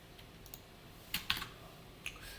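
Keys on a computer keyboard clack softly and sparsely during coding, with a few isolated taps and then a short burst of quicker strokes, all fairly quiet with no voice.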